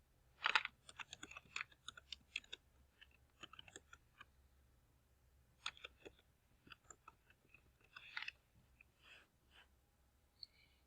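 Keystrokes on a computer keyboard tapped out in short, quiet, irregular bursts, with pauses between runs and a soft background hum.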